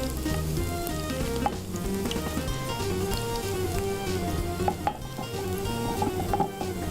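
Sliced garlic and cumin seeds crackle in hot oil for a baghar, a dense, continuous spattering sizzle close by with faint pan clinks and no one speaking.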